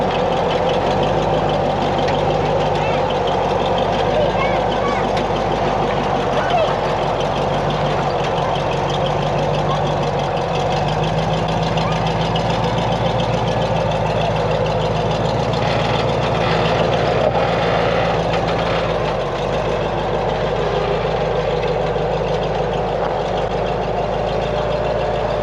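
Rock crawler buggy engine idling off-road on rocks, a loud, steady low rumble with a slightly uneven, knocking pulse that holds throughout without revving.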